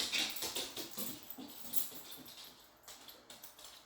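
A dog waits for dinner in a hallway, letting out faint, high, thin whimpers and soft whines against quiet room noise, loudest at the start and fading toward the end.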